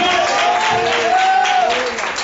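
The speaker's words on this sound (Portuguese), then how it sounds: "Aplauda mais forte, até fazer" Steady, loud applause from a church congregation fills the room without pause, with a sustained singing or humming voice faintly woven through the clapping.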